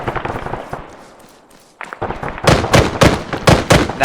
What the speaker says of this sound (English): Now we're using assaulting fire.